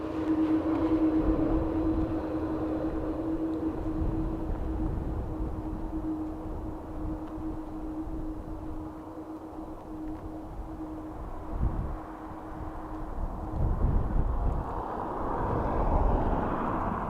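A British Airways airliner from London City at Dublin Airport gives a steady, distant engine whine with a sustained tone under broad rumble, the tone cutting out late and rougher roaring noise rising after it.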